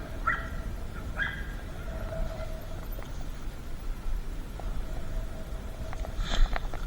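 Several dogs barking and yipping at a neighbouring property, scattered sharp barks and whimpers spread over a few seconds, moderately distant with background hum.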